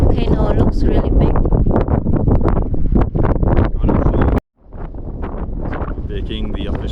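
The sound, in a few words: wind at volcano summit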